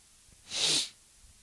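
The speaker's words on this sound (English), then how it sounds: "I gotta sneeze." A single close sneeze bursts out sharply and fades within half a second, against a quiet background.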